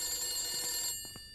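A telephone bell rings loudly in the horror game The Beast Inside, a steady metallic trill that stops abruptly, followed by a couple of soft thumps.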